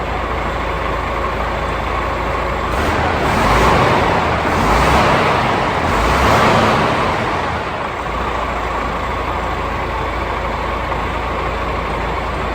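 A DAF CF85 Euro 6 heavy goods truck engine runs steadily nearby, a loud low diesel rumble with a brief swell in intensity partway through, no voices over it.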